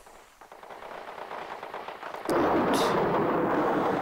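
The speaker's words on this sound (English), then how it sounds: "the sound of gunfire." Gunfire in the visual novel Steins;Gate 0, a sustained rumbling barrage of shots that surges abruptly louder partway through, with a sharp burst near the end and a brief spoken word at the start.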